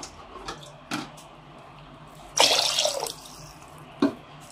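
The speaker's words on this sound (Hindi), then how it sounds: "ये रहा हमारा चिकन, इसके अंदर अब डालेंगे हम पानी गलाने के वास्ते।" Water poured into a pot of chicken while making harees, a brief splashing pour of about a second, close and fairly loud, set between a few sharp clinks and knocks of the pot.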